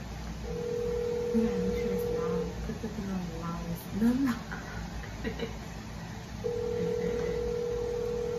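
A telephone ring tone sounds in two long steady beeps, one near the start and one near the end, while people talk over and between them.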